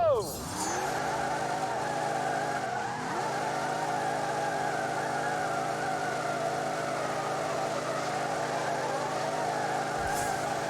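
Race cars in The Grand Tour Game hold a steady, droning engine roar throughout, with a brief tyre squeal near the start and revs rising and falling. A voice talks over part of it.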